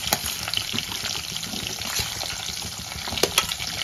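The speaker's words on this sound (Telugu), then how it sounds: "సో వెంటనే ఆనియన్స్ కూడా వేసుకుంటాను" Onions and curry leaves sizzle in a hot pan of oil, a dense, steady crackling fry with occasional sharper pops and spatters, close and continuous with no talking.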